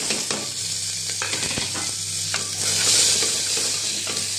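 Finely chopped onion frying in oil with tempering spices for masoor dal, a close, steady sizzle broken by repeated stirring clinks and scrapes of a spatula against the pan.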